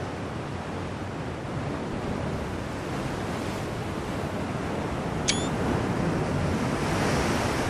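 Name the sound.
ocean waves breaking in Ultimate Admiral Dreadnoughts video game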